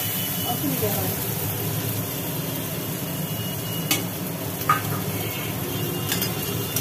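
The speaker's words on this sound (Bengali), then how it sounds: "চিংড়ি মাছটা ভাজা হোক।" Fresh Ganges river shrimp fry in oil in a pan, a continuous dense steady sizzling hiss with occasional brief clinks and scrapes.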